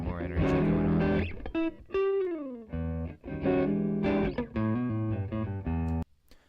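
An electric guitar run through a fuzz distortion plugin plays a short phrase with bent notes, buzzy and saturated, loud and up front.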